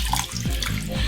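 Water running steadily from a kitchen tap while artichokes are rinsed and shaken beneath it, a close, continuous splashing with small shifts as the flow hits them.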